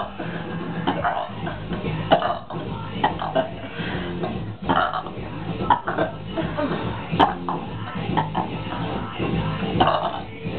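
A girl burps repeatedly, loud and close, with throaty belches and bursts scattered across the stretch and some coughing-like sounds mixed in.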